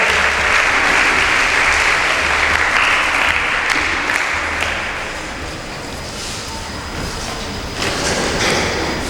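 An audience at a Nigerian debate on regional government breaks into sustained applause, a dense, loud wash of clapping that dips midway and then swells again.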